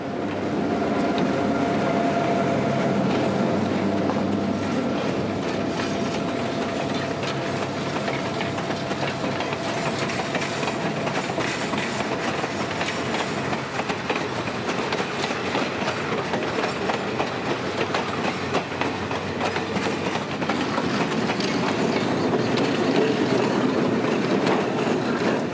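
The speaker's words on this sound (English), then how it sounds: "the train heads back to Parrish to pick up the crowd of 7:15 riders" A passenger train on an excursion run from Parrish in dark rural Central Florida rolls past at night, giving a continuous loud rumble with rhythmic clickety-clack of wheels over rail joints for the whole span.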